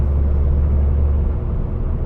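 A turbocharged car's exhaust under boost gives a loud, steady engine and exhaust roar with deep low rumble, holding constant throughout with no speech.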